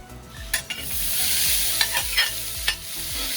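Onions, garlic and chili pepper frying in a pan for paella, a bright continuous sizzle with quick clacks of a utensil stirring, close and loud with no talk.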